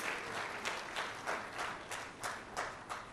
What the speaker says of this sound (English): We have to applaud them.